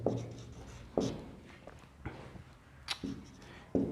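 A pen scratches across paper as a math solution is written out, giving soft, close strokes and taps in an irregular rhythm.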